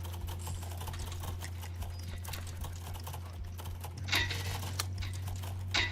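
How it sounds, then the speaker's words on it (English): Rapid clattering keystrokes on a computer keyboard, a dense quick rhythm of close clicks with a steady low hum underneath and a slightly louder burst of taps near the end. "How the fuck are you typing so fast?"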